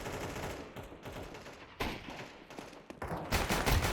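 Gunfire in the video game Counter-Strike 2, several sharp shots and short bursts, with a louder flurry near the end.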